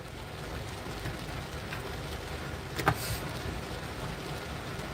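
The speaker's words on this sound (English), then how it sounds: "Y'all hear that rain?" Rain falls outside as a steady, soft hiss, faint and continuous, with a brief louder rush midway and no talking over it.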